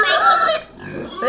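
A female pasture pig grunts loudly and close up, a short rough squealing grunt followed by a fainter one.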